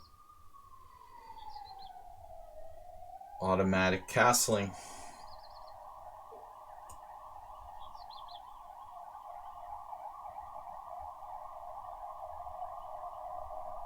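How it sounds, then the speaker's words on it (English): An ambulance siren outside sounds as a steady, distant tone that holds on continuously, faint and muffled behind walls. A short spoken phrase and a couple of sharp clicks interrupt briefly near the start. "Ambulance."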